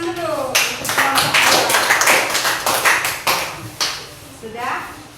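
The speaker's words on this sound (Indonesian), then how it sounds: "Oke, tepuk tangan dulu untuk kelompok" Primary school classroom applause for a group of students, several children clapping in quick uneven bursts close by, fading after a few seconds as voices talk over and after it.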